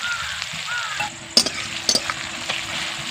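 Salted onions fry in a pan until soft, a steady close sizzle punctuated by a few sharp clacks and scrapes of a spatula stirring them.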